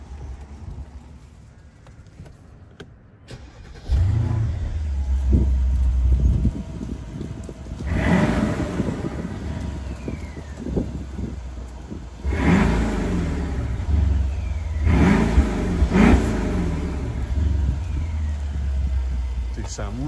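A blue 2018 Mercedes S500 Coupe with a 4.7 V8, AMG Line, starts with a loud rising bark, then settles into a deep idle broken by several strong revs, heard close.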